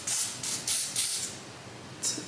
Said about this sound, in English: I spray on the lace itself